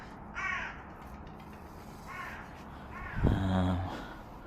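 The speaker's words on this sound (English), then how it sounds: "Apologies for the birds and whatnot, magpie." A magpie gives a few harsh, raspy calls spaced apart, the last one louder and chattering, outdoors on an allotment at moderate distance.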